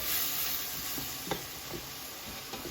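Ground meat browns in a pan for spaghetti meat sauce, a constant close sizzle with a few soft stirring scrapes.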